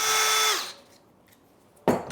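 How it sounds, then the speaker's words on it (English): A power drill whirs into the wood of a piano part, one steady loud burst that winds down, then a short quiet pause before the drill starts again abruptly. "very slowly, carefully drill in, but I don't want to drill right through"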